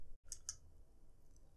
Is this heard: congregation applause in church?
no